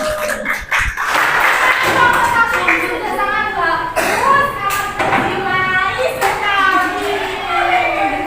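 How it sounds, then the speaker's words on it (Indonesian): Schoolchildren in a classroom clap together at a teacher's prompt, rhythmic bursts of close hand claps mixed with lively young voices chanting and calling out over them. "Kita beri tepuk tangan sekali lagi."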